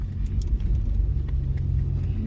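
A 2025 Ford Bronco Raptor drives across the Silver Lake sand dunes at around 40 mph, its engine a steady low rumble close by with no talk.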